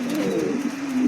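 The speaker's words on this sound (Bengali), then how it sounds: "একটা মেল নতুন কবুতর, 8-9 খিলের কবুতর, খুবই চমৎকার।" A young male pigeon coos close by, a soft, low, warbling call rising and falling across a second with no voices.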